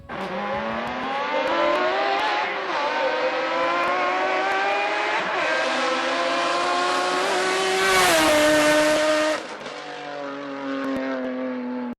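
A car fitted with a stainless Super Sprint exhaust system, including front pipes, replacement cat and center exhaust, revs hard and loud with a rising, sustained engine tone that peaks and then drops back.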